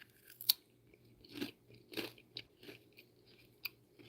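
Crunching bites of freeze-dried pineapple, close and quiet: a sharp crack, then several dry, brittle chews spaced roughly half a second apart, with no voice.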